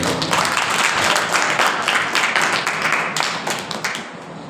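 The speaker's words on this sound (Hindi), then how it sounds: "हम सब ताली बजा के हम स्वागत करेंगे" A Sunday church congregation claps to welcome the preacher, a thick, loud wash of applause that holds steady before easing slightly at the end.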